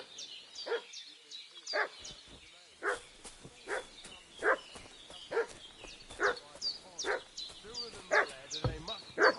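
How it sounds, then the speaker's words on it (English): A dog barks over and over in short, evenly spaced yaps at moderate distance, the barks keeping up a fussy, insistent rhythm through the whole stretch. "What's that dog making such a fuss about?"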